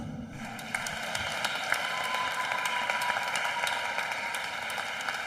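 An audience at a bicentenary celebration of a religious congregation applauds a nun, Sister Reine-Claude; sustained, even clapping from many hands rises quickly and holds steady throughout.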